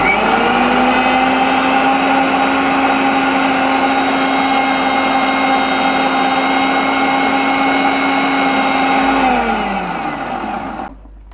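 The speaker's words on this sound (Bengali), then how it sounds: "এখন আমি এটিকে ব্লেন্ড করে নেব।" An electric blender whirs loudly and steadily, blending aloe vera gel with a constant high motor whine that spins down and fades out near the end.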